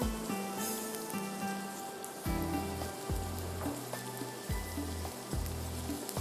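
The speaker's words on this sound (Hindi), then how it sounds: "इसके बाद हम इसको करते हैं यहाँ पर फ्राई।" Chapli kabab sizzles and crackles steadily in a frying pan, a dense close frying hiss broken by occasional soft knocks and scrapes, with no talking.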